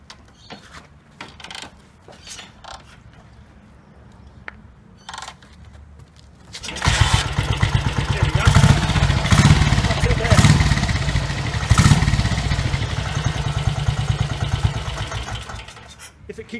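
A BSA motorcycle, a single-cylinder party-trick bike, is kicked over after a few quiet knocks and scrapes, then fires and settles into a loud, steady running beat that carries on to the end.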